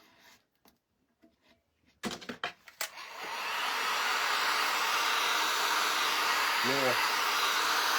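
A heat gun starts with a click and rises to a steady, loud hot-air roar while heating a printed decor tray. Clattering handling sounds come just before it, and a brief voice is heard near the start.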